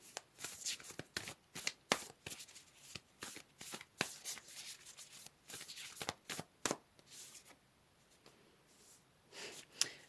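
Tarot cards are shuffled and pulled from the deck, producing a rapid series of crisp, close card snaps and riffles that taper off toward the end of ten quiet seconds.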